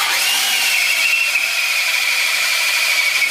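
A power-driven dowel cutter whirs steadily as it shapes the end of a wooden dowel, a loud, continuous high-pitched grinding drone held close and unbroken throughout, with no talking.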